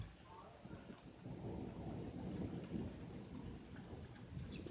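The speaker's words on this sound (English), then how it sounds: "It's really a storm right next to us." A thunderstorm with heavy rain beside a house during a tornado warning: steady loud downpour and wind noise with a low rumble of thunder rolling underneath, close and continuous.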